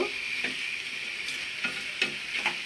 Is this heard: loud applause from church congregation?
no